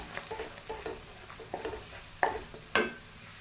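Tomato paste cooks in a pan for a soybean curry, giving a low sizzle broken by scraping stir strokes, with two sharper clatters near the end; close and moderately loud, no talking.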